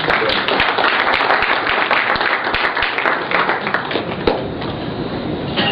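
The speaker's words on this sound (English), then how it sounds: "He deserves one more round of applause." An audience applauds after a presentation at an event, a dense burst of many hands clapping close by that carries on steadily and fades slightly toward the end.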